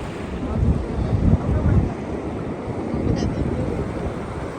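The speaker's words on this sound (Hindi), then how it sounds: "ये देख ले समंदर की लहरें आ रही हैं" Sea waves wash onto a winter beach as a broad, steady rush, with strong wind buffeting the microphone and louder surges in the first two seconds.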